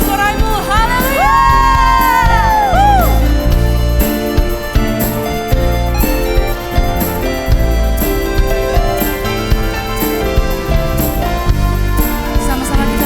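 A church congregation at a Sunday worship service shouts and cheers in a sustained roar of mixed voices over steady instrumental music, with a single voice rising above at the start.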